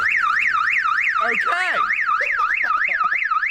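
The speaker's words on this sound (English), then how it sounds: "Got a very advanced alarm system." A Honda Civic's aftermarket car alarm wails in a rapid, rising-and-falling electronic whoop, loud and continuous, with a brief burst of talk partway through.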